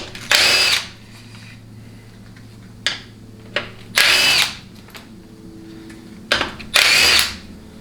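Power tool spinning out half-inch bolts from the governor cover of a TH400 automatic transmission, four loud whirring bursts with brief clicks between and a faint hum underneath.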